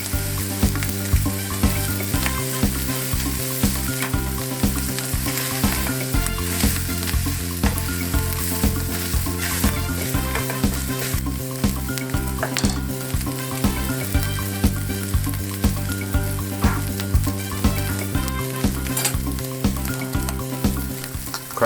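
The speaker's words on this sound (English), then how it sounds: "Place the bread slices in the pan and let them start toasting and soaking up that bacon flavor." Bread slices fry in rendered bacon fat in a pan, giving a continuous close sizzle dotted with small crackles and spits that holds steady throughout.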